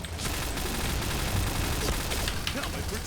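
An MP7 submachine gun fires in the online shooter Point Blank: rapid, dense automatic bursts crackle continuously and loudly, with other gunfire and game noise layered into the dense clatter.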